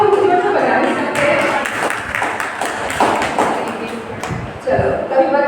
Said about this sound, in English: So again, a nice clapping. Please be loud.